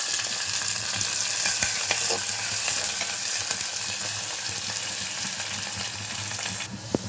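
Onions and curry leaves frying in oil in a pan for a fish gongura curry give a steady, loud, close sizzle with occasional spoon scrapes and clinks as they are stirred.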